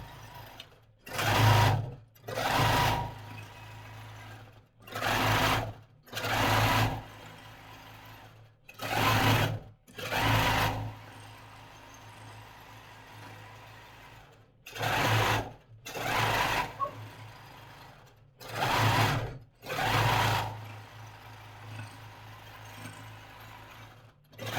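A longarm quilting machine stitches rows across a 25-patch quilt. It runs in loud, steady bursts roughly every two to three seconds, with brief pauses between them and no talking.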